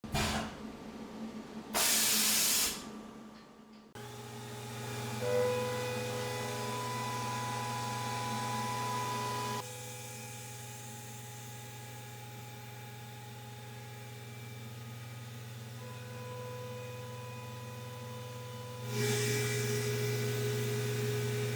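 A CNC face mill with through-spindle coolant cuts on a Tormach mill, giving a steady hiss of coolant spray over a constant tonal machine hum, with short louder bursts at the start and near the end.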